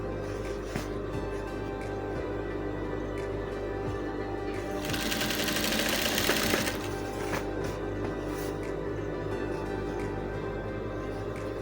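An electric sewing machine runs steadily while stitching a dashiki made of ankara fabric, its motor hum rising into a louder, denser burst of rapid stitching in the middle before settling back to a lower drone.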